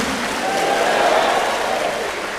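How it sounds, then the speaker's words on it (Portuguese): A church congregation claps for Jesus at a worship service, a brief dense burst of applause with some cheering voices mixed in. "Pode dar um aplauso mais forte para Jesus, que Ele merece."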